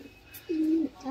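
A pigeon coos once, a short, soft, low call close by, with quiet background noise and a faint chirp just before.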